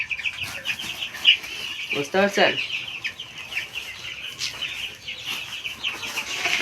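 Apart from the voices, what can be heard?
chickens clucking on a poultry farm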